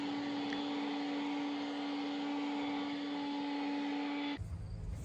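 A leaf blower runs continuously at close range with a steady whining roar, clearing leaves, sand and loose debris from a driveway, then cuts off abruptly near the end.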